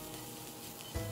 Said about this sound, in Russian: Масло разогрелось, сразу отправляем туда гренки. Обжариваем гренки 2 минуты.